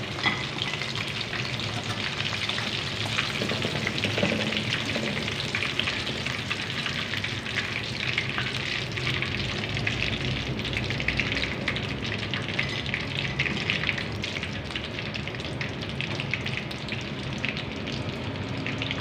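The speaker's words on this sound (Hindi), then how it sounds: "बाकी चिकन भी ऐसे डालते जाएंगे, स्लो आंच पे फ्राई करेंगे।" Chicken sizzles and crackles steadily in hot oil over a low flame while being fried until crispy, a dense, continuous bubbling hiss close by with no voices.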